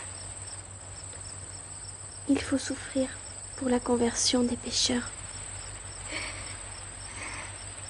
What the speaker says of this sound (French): Dis au grillon qu'il se taise.